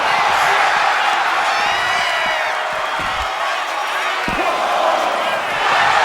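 A wrestler slams an opponent onto the ring mat during a women's wrestling match, dull thuds landing under a loud, continuous crowd roar with cheers and whoops.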